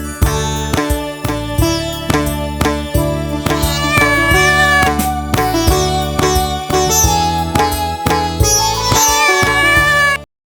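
A house cat's meow sung within a Telugu children's nursery rhyme, heard over steady bright instrumental backing with rhythmic beats, the melodic cat-like calls recurring loudly throughout.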